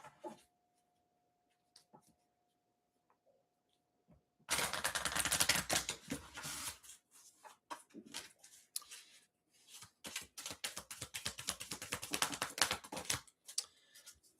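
A deck of reading cards is shuffled close by: after a near-silent stretch comes a sudden dense riffling burst, then quieter intermittent flicks and clattering shuffles.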